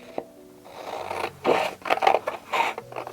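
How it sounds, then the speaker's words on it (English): Scissors snip through paper while cutting out a rabbit shape for an Easter craft, giving a few short, close, crisp cutting bursts separated by brief pauses. "And then I'll cut around it. So we got that. Now we're just going to cut around it."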